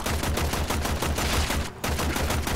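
Dense, continuous video game gunfire from Warframe combat, with rapid shots and blade attacks blurring into a steady loud barrage. There is a brief dip near the end.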